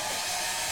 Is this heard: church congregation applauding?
no